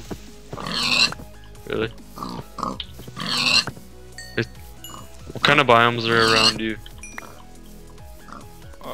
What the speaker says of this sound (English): There's a shit ton of pigs I'm killing.